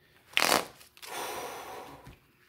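Tarot cards are shuffled by hand in two quick riffling bursts, a sharp loud flutter followed by a longer, softer rustling shuffle, heard close up with no talk.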